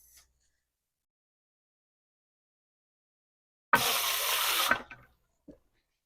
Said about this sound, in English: I'm going to go ahead and wash my hands before I start my service